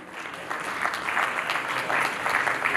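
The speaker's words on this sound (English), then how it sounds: "We need your huge round of applause." Audience applause at the Pharma Ratna 2019 ceremony, a steady round of clapping from a seated crowd that swells slightly and holds for a few seconds, moderately near.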